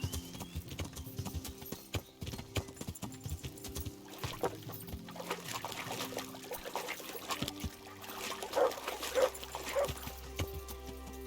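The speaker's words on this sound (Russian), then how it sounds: "Что-то там лаял." In the medieval game Kingdom Come: Deliverance, a dog barks several times at mid distance over steady clip-clop horse hoofbeats and trickling water, with no talking.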